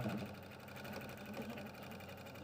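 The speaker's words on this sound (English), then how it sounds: "So go sew those together now." A sewing machine hums and clicks steadily as it stitches fabric pieces together for a stuffed squirrel accessory, a quiet, even whir through the short stretch.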